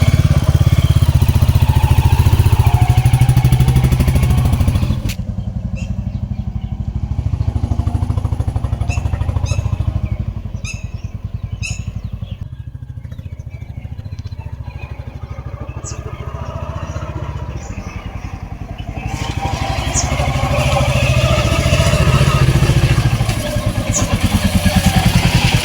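A Royal Enfield motorcycle rides past with a loud, steady engine drone that eases to a softer rumble in the middle and swells again toward the end.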